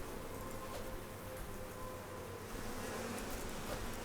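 Bees buzz steadily in the survival game Icarus, a continuous faint droning hum holding throughout with no pauses, set against low ambient background noise.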